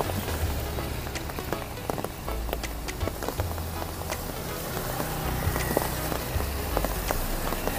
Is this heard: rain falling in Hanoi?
yes